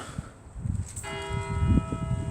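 A bell rings out clearly partway through, its tone sustained and ringing on over low background rumble.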